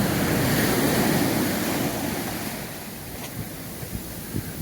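Waves wash in at the water's edge of a warm Caribbean beach at Juan Dolio in the Dominican Republic, a steady close roar of surf with wind buffeting that eases slightly toward the end, no voices.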